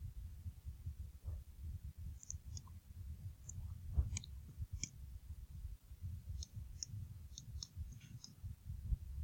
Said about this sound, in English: all we have to do is type it into the calculator